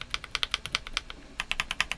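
Keys on a NuPhy Halo65 mechanical keyboard are pressed in quick, slightly uneven bursts of crisp, clacky clicks, close and clear, with a brief pause in the middle and no talk.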